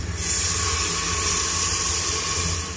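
A loud, steady hiss of water poured into hot spiced oil sizzling fills the whole clip, bright and close, with a low rumble underneath.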